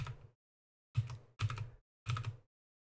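Computer keyboard keys struck in quick short bursts while staging a funny car in a drag racing game, four distinct clusters of clicks separated by brief silences, close and clear.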